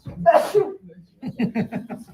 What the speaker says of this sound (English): I think she just threw her back out with the sneezing twice.